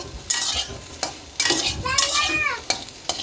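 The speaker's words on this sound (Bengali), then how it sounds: "রান্না কিন্তু শুরু করে দিয়েছি, সোয়াবিনটা ভাজছি" Oil sizzles steadily as soybean chunks fry in a pan, with several sharp scraping stirs and a spatula clink cutting through the hiss; no one speaks.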